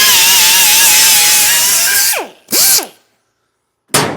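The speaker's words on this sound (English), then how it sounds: "So I just use my die grinder, the air die grinder there with these 24 grit 2-inch cookies" Air die grinder with a 24-grit two-inch cookie disc grinding down welds, a loud high-pitched whine that spins down twice with short bursts between, then a pause before it starts again.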